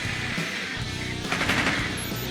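A short burst of automatic gunfire goes off in Rainbow Six Siege, a fast rattling volley close by and fairly loud for about two seconds.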